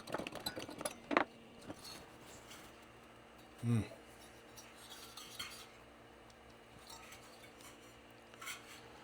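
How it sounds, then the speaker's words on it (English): Loose screws from a Goldshell KA Box Pro crypto miner being repaired drop and clink on a hard surface, a short metallic scatter near the start with a thud a few seconds later, then quiet background. "Oops, there goes all the screws."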